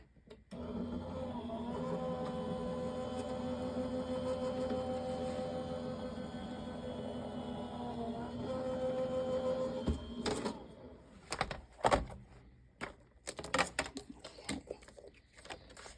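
A die-cutting machine cranks a 4.5 by 6.5 inch stitch die and patterned paper through its rollers for a 5x7 card, a steady mechanical grinding that runs for about ten seconds, followed by lighter handling clatter.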